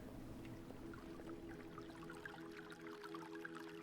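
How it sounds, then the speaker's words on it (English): Gently flowing water from a small water feature in the video game Heaven's Vault, a soft continuous pour and trickle that is faint and steady, with no talking over it. "This is a nice little water feature."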